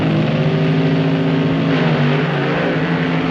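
Dragsters at the 1965 NHRA Winternationals launch off the start line in a cloud of tire smoke, a loud, steady, full-throated engine roar with no break.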